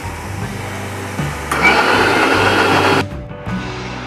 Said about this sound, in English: Let's go ahead and cover this and start blending it.